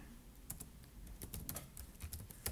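Quick, light keystrokes on a computer keyboard while an email address is entered, soft irregular clicks in bursts over a faint background hum, close and quiet.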